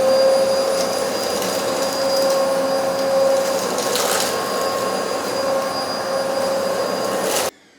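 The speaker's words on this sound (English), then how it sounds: "I was comparing this to my old corded vacuum." An old corded vacuum cleaner runs on carpet strewn with potting soil, a loud, steady whine with a high motor tone that holds for several seconds and then cuts off abruptly.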